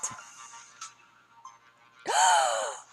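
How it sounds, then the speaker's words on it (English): A voice-acted gasp of delight from a romance video game, a short breathy intake followed by a brighter, rising vocal burst near the end, close and clear. "Nadia gasps in delight."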